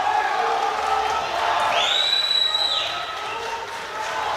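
Crowd cheering and applauding at a powerlifting world championship meet, a steady loud roar with whoops and a rising whistle-like tone in the middle, held throughout.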